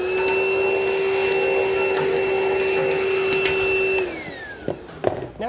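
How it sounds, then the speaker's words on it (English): A vacuum cleaner sucks loose metal debris out of a trailer frame during a fold-away coupler hinge install, a steady loud whine for about four seconds that winds down, followed by a few rattles and knocks. "we'll take a vacuum and clean out any of the loose metal in the frame"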